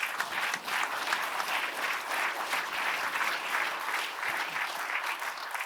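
Audience at a talk by Preet Bharara at The Neptune breaking into steady, full applause, dense clapping from a sizable crowd sustained throughout with no voices on top.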